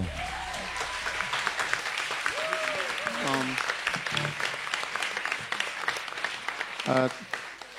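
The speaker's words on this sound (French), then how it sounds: "Est-ce qu'on peut applaudir tout le monde?" An audience at a gospel concert in Paris applauds the singers with steady clapping and cheers, while voices speak and call out over the applause.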